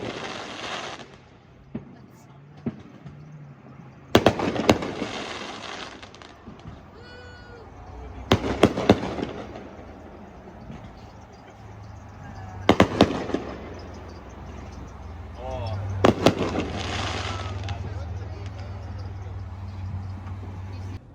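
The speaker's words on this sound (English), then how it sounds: "And we were also treated to fireworks that July the 4th" Fourth of July fireworks at an Outer Banks vacation spot go off in several sharp bursts spaced seconds apart, some with crackling tails, over a steady low background hum.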